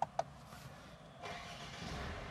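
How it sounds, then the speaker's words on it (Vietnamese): Car engine starting after the driver's door is shut: two sharp clicks, then the engine catching and settling into a quiet, steady idle, heard from inside the car. "nổ máy xe lên ha."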